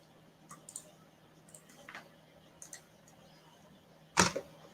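Computer keyboard typing comes as sparse, faint clicks in small clusters, ending with one louder double clack, with no talk.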